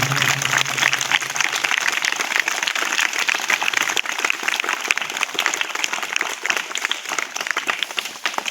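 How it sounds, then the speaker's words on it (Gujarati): Sustained applause from an assembled crowd at a high school birthday celebration in Vatadara, Gujarat, with dense, even clapping that carries on throughout. "તાળીઓના ગડગડાટથી"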